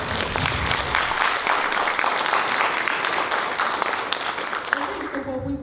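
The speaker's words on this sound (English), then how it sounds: "So a big round of applause for all of our students for showing up" Audience applause for students at a university pitch competition, a room full of people clapping densely and steadily for several seconds, with a few voices audible as it fades out.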